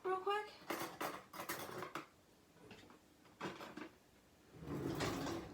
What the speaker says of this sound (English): let me go ahead and get my spoon out real quick